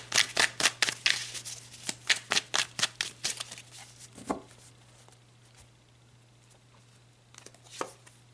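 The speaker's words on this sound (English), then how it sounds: "let's pull a few cards for some highlights" Tarot cards are shuffled in a quick, rhythmic run of close, crisp riffling snaps, then slow to a few softer slides and flicks as cards are drawn, with no talking.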